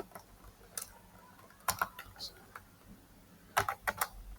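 Someone types code on a computer keyboard, short bursts of soft clicking keystrokes in an uneven rhythm, fairly close and quiet over low room noise.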